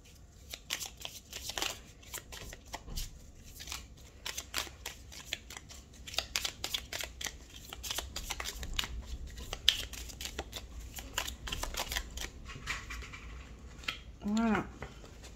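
Tarot cards are shuffled and handled close up in repeated soft riffling bursts and flicks, fairly quiet, with a brief voice sound near the end.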